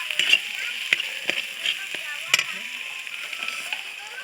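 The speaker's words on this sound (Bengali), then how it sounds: "এবার দিয়ে আবার কষাবো।" Chicken coated with turmeric and chilli powder sizzles steadily in a pan, with soft scraping stirs and occasional clinks over a constant frying hiss; a voice talks faintly in the background.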